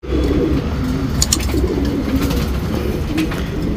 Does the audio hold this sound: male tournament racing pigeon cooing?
yes